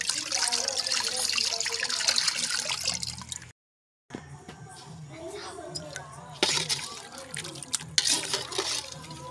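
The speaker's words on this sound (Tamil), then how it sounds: "அளவு தண்ணி ஊற்றுறோம் பிரியாணிக்கு." Water being poured into a pot of chicken biryani, a trickling, splashing flow that stops briefly, then resumes with uneven gurgles and clatter; no one speaks.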